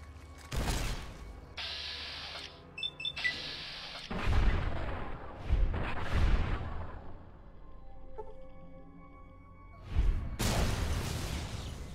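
Grenade explosions in the PC game Fallout: New Vegas, several heavy booms spaced a few seconds apart with mechanical game noises between them, loud and close.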